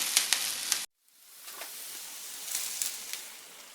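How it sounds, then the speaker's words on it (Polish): Browned onion tipped into a pot of sauerkraut bigos with meat and mushrooms gives a soft, steady sizzle and hiss after a brief clatter, continuing quietly with faint crackles and no talking. "Cebulka jest już dobrze zrumieniona, teraz dodam ją do bigosu."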